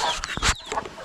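Month-old chicks with their mother hen, giving close, lively high peeps and soft clucks that overlap in quick bursts.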